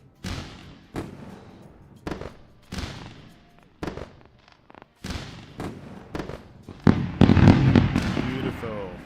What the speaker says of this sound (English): Let's do fireworks.